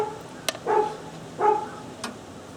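A dog barks twice nearby outdoors beside a grill, two short separate barks about a second apart, moderately loud, with a couple of sharp clicks in between.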